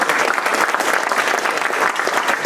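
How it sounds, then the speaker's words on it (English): Audience applause for a presenter named Goran after a live demo of the ZAP Jenkins plugin, a dense steady wash of many hands clapping at once, fairly close and filling the whole stretch without any voices. "I think let's give a round of applause."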